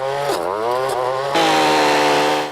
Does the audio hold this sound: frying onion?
no